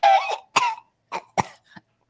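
A voice imitates a gym-goer coughing and hacking, with a rough harsh burst followed by several short, sharp coughs and a faint final hack, close and loud with no other sound.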